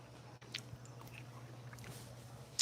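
Someone chews a bite of vegan stuffed mushroom or red pepper pasta, with faint wet mouth sounds and soft squishes over a low background hum, ending in a brief louder smack.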